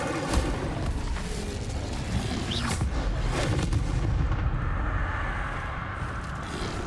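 Incendio fire spell cast in the video game Hogwarts Legacy, a sustained roaring, crackling burst of booming game effects lasting several seconds with no talk.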